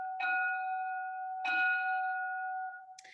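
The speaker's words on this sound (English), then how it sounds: "I'll wait for the bell, our lovely bell" A lecture-hall bell chimes twice, each strike a clear ringing tone that sustains and slowly fades, followed by a brief higher clink at the end.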